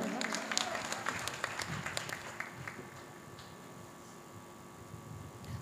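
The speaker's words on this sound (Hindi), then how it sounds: "एक बार ज़ोरदार तालियाँ बजा दें" Applause from a mushaira audience in Kandhla, Shamli, a crowd clapping steadily at moderate distance with sharper individual claps early on, easing into a softer sustained patter under a faint hum.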